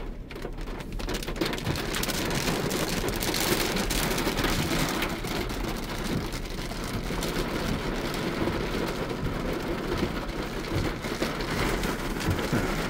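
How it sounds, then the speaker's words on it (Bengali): Rain falls steadily on a car, a dense loud hiss of drops drumming on the body and roof throughout, with no talking. "বৃষ্টি শুরু হয়ে গেছে,"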